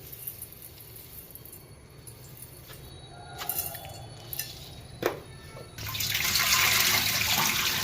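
Fresh greens such as mint, spinach and coriander for a green chutney are rinsed in a kitchen. A few faint clinks of utensils come first, then tap water gushes steadily and fairly loudly for the last couple of seconds.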